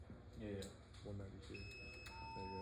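A fire alarm panel sounds steady electronic beeps and a sustained tone during a fire alarm training session, heard beneath close conversation.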